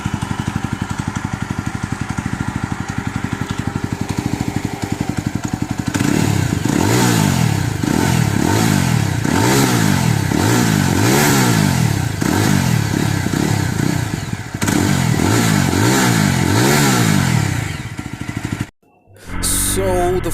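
A Yezdi Roadster motorcycle engine runs loudly at close range, settling into a steady idle and then pulsing through repeated revving swells before cutting off abruptly near the end.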